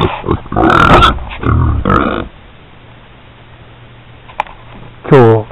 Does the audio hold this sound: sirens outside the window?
no